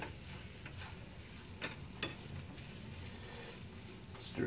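Food being stirred in a pan with sweet red onion alongside spice-rubbed pork, a faint sizzle under a few soft scraping clicks of a utensil, with no voices.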